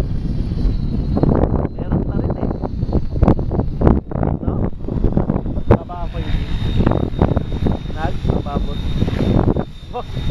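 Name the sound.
wind blowing on microphone at RC helicopter flying field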